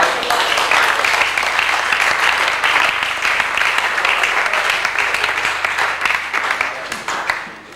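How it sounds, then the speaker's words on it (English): Spontaneous applause breaks out for the Prime Minister as he leaves a gathering with officials during the France 98 World Cup: dense, steady clapping from a crowd, fairly close, sustained for several seconds before tapering off at the end. "And spontaneous applause for the Prime Minister as he left."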